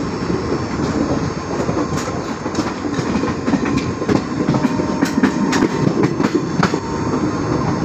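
A train passing through Bahanaga railway station in Odisha, a loud continuous rumble of wagons with rhythmic clickety-clack of wheels over rail joints and faint metallic squeals, close by and steady for the whole stretch.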